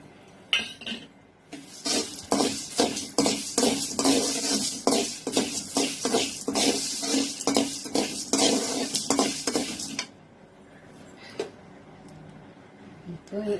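Whole fenugreek seeds, mustard seeds, cumin, black pepper and fennel being stirred while dry-roasting in a pan, giving a steady, close run of rhythmic scraping and rattling for several seconds before stopping, with faint background noise at either end.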